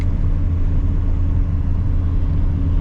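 A Datsun 280Z with a tuned FAST EFI system on a test drive: a loud, steady engine rumble from inside the car, with a deep low drone that holds throughout and no speech.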